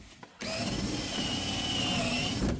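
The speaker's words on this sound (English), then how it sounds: "I have a lot of broken rivets on my drill bit here." A power drill drills out broken rivets from a floor panel on a 1964 Plymouth Fury, a steady high whine starting abruptly after a brief pause and running continuously, close and fairly loud, without talk.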